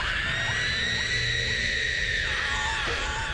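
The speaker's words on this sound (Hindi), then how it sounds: "पीछे से गांव वालों के चिल्लाने की आवाज आई" Villagers shouting and screaming in a continuous, strained chorus of rising and falling cries, steady and fairly loud against a constant background wash.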